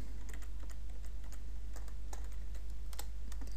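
Keys tapped on a computer keyboard while entering text into an Excel 2010 spreadsheet, a quick run of light, irregular clicks close by over a steady low hum, with no talking.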